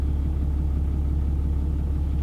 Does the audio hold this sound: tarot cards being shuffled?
no